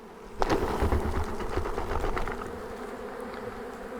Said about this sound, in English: just going to give it a quick shake and most of the bees will fall in